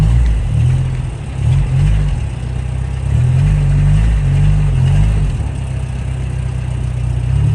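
An old Jeep Wrangler's engine runs close and loud as it squeezes through a half-open gate, a low steady drone with slight surges in revs.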